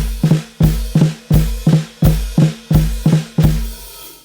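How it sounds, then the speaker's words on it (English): Drum practice of the flam rudiment with a foot-splashed hi-hat, eight evenly spaced loud hits with grace-note doubling and a low thump, close and dry. "other rudiments we can work on with this idea of a splashed hi-hat is the flam."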